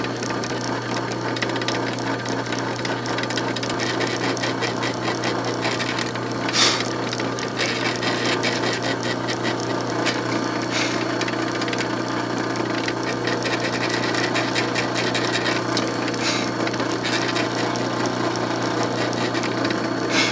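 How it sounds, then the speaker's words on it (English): A wood router with a concave bit recesses shallow holes into a wooden board, a steady close motor hum with grinding cutter noise running continuously, with one brief sharper burst partway through. "I'm using this concave bit for recessing that hole."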